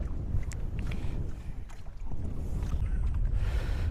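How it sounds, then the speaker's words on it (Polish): Strong gusty wind buffeting the microphone at a feeder fishing league competition, a loud low rumble that is steady apart from a brief dip, with faint water and tackle sounds above it. "Ale wiatr, ludzie. To jest masakra cały czas wieje."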